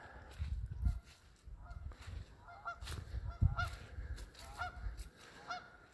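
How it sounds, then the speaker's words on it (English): Several honks from Canada geese carry across a Wisconsin park lake at spaced intervals, fairly distant, with low rumbling wind noise and handling bumps underneath. "Here are the geese."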